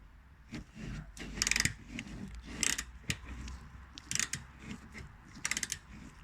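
A 1/4 inch ratchet working a badly rusted bolt on a Volkswagen Polo 9n 1.4 TDI, repeated clicking strokes in short bursts with clanks between, close and without talk.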